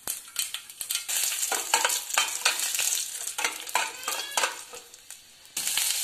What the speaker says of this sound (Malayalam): കടുക് ഒന്ന് പൊട്ടുമ്പോൾ നമുക്കതിലേക്ക് 2 വറ്റൽമുളക് ഞാൻ ഇട്ട് കൊടുക്കുന്നുണ്ട്